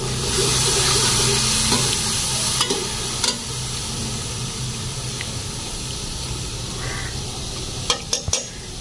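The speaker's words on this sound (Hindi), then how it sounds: "तो हमारे जी प्याज भी जी ब्राउन से हो रहे हैं। तो आग जी बहुत ज्यादा मैंने तेज कर दी है।" Onions browning on very high heat in a pot for beef pulao, a loud, constant close sizzle with occasional clacks of a spoon stirring against the pot.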